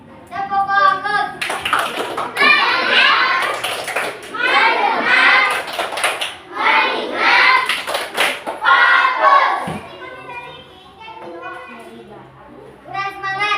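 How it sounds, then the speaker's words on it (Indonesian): A class of fourth-grade schoolchildren claps hands in a classroom in bursts of loud, rapid applause, with a teacher's voice speaking between rounds and children chattering. "Tepuk tangan."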